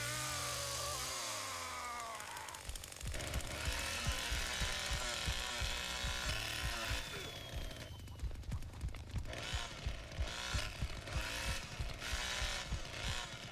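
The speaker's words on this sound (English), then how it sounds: "No, my chainsaw wasn't ready!" A chainsaw weapon in the video game Lies of P revs and grinds amid combat, buzzing steadily, then breaking into rapid repeated bursts and impacts, loud and close throughout.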